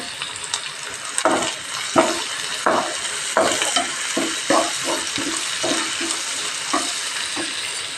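Curry leaves dropped into hot oil during a liver fry, giving a close, crackling sizzle broken by repeated stirring scrapes against the pan, no voices.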